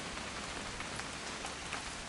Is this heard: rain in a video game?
yes